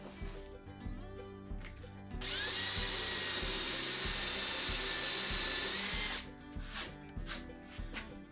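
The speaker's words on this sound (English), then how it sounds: "Then I have a 1/4 inch bit in my drill." A power drill with a 1/4 inch bit whines steadily for about four seconds while boring holes into a wooden workbench top, framed by quieter rhythmic background music before and after.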